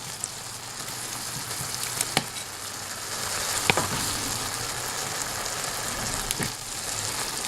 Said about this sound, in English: now that that's wilting down quite well, I'm going to add the tomatoes. So let's just stir those in